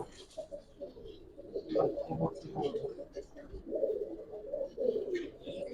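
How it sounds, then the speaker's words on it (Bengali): Pigeons coo softly in low, repeated murmurs at a pigeon market, with background voices faintly audible. "এটা হলো এবং যেটা কবুতর খুব সুন্দর"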